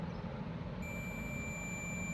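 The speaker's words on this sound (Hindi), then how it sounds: "बीप के साउंड आई है, हाँ।" A steady high-pitched continuity beep from a multimeter starts suddenly and holds without a break while its probes touch car wiring, over a low background hum with no voices.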